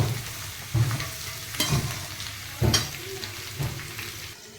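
Pumpkin cooking in a covered pan on low heat, a soft steady sizzle under the lid with a few dull periodic knocks and stirs, fairly quiet and close.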